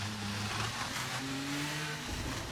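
Formula 1 car at full throttle on a corner exit at the Hungary circuit in the F1 23 racing game, a loud steady engine drone with rising revs and a short gear change, continuous and close throughout.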